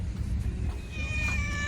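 A cat near a lakeside pond in Dubai gives a short, clear meow, close and moderately loud over soft outdoor background noise.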